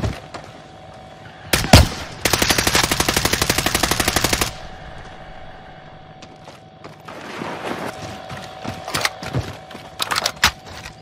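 Call of Duty Warzone gunfire: a single loud shot, then a sustained rapid automatic burst lasting about two seconds, followed by scattered shots and short bursts, some nearer and some farther off, over a steady background hum.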